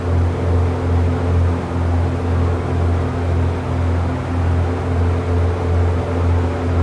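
Aircraft engine in the X-Plane 11 flight simulator during a climb near 3,000 feet, a loud, steady low drone with a gently pulsing rhythm and a constant hum, no voices.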